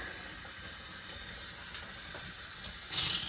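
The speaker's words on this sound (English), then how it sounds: "we just got air coming out down here" Air hisses steadily from a household water line during a kitchen water-damage plumbing repair. The hiss is a continuous, moderate sound that swells briefly louder near the end, with no one talking.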